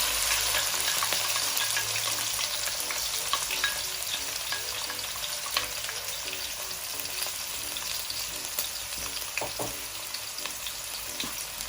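Chopped vegetables sauté in a hot pot for prawn fried rice, giving a dense, loud, unbroken sizzle with occasional light clicks of stirring.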